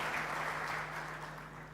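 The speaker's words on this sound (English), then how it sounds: "Let's give him a round of applause." Audience applause at an ACT Alliance General Assembly feature day, a steady broadband patter of clapping sustained at even strength for the whole short stretch, with no voices over it.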